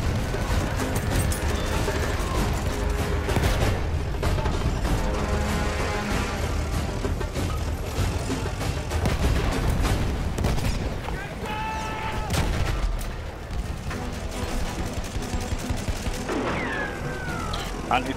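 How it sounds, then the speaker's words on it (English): Gunfire and anti-tank rounds in the video game Battlefield 1: scattered shots and dull booms crackle through busy battlefield noise at a fairly low level. "Anti-tank rounds going in."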